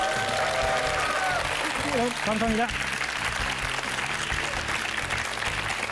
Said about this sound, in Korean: 여러분 함성과 함께 박수 부탁드립니다